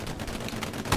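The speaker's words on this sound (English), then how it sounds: "guns him down with the shotgun" Shotgun fire crackles in a WWII video game battle, a dense burst of gunshots heard close and loud over ongoing game noise.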